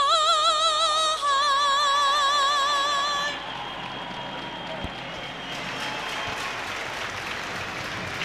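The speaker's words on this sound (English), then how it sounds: "A fabulous minute of applause from Ice Arena Wales" An ice hockey arena crowd at Ice Arena Wales, for a Cardiff Devils versus Glasgow Clan game, holds a sustained minute of applause, a steady wash of clapping under a tonal announcement chime that fades.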